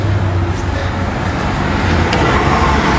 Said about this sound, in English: Look at them old city truck right here.